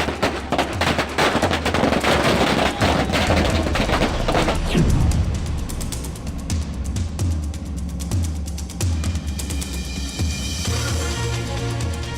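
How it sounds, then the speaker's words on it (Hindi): Rapid, dense crackling bursts of firecrackers popping continuously at an election victory celebration in Bengal, loud and close, with booming thumps and crowd noise mixed underneath. "यहाँ रंग गुलाल के साथ टीएमसी कार्यकर्ता पटाखा फोड़कर खुशियां मना रहे हैं।"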